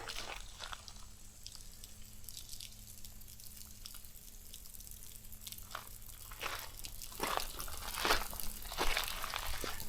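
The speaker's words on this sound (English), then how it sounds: "You can see the water, or hear it anyway, hitting off those wet rocks on the other side." Water drips and splashes onto wet rocks behind a waterfall pool, irregular scattered taps and spatters, some near and crisp, growing busier toward the end over a low steady background hum.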